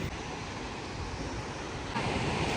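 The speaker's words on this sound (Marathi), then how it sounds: "धबधबा बघू शकता मागं तुम्ही" Steady, roaring rush of falling water fills the scene, a dense broadband wash that grows slightly louder near the end.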